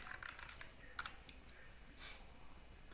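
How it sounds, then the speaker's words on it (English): Someone enters an email address and password on a computer keyboard with quiet, close key clicks in short irregular bursts over a faint background hiss, without speech. "all you have to do is type in your email address, and then the password you used for signing up with the account"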